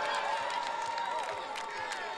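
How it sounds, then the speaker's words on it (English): Fans in the stands at a women's flag football semifinal between Mexico and Brazil chant for their country, a steady, distant crowd roar with rising voices and scattered cheers throughout, and a voice talks over it. "behind us, there are fans chanting away for their country"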